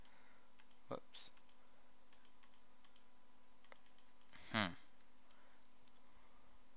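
Two sharp computer mouse clicks, one early and a louder one a few seconds later, stand alone against a quiet room hum.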